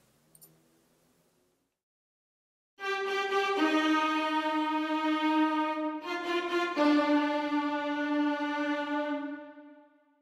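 After a faint start, a sampled first violin section plays a forceful sustained phrase from Beethoven's Symphony No. 5, sharp accented attacks and rich bowed harmonics, then fades out.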